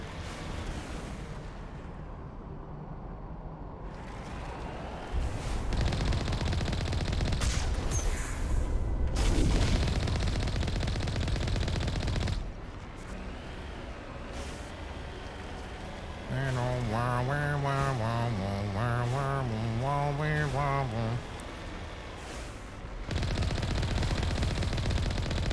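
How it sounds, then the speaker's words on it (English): Sniper fire and combat in the video game Mass Effect Legendary Edition: sustained booming gunfire and explosions under a steady game soundscape, with a tonal warbling effect partway through and no speech. "Whoa, we're getting sniped, huh?"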